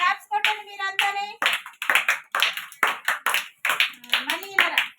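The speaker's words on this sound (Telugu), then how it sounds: "క్లాప్స్ కొట్టండి మీరంతానే." Children clap their hands in an Anganwadi preschool class, bursts of clapping repeating through the clip while adults talk over them.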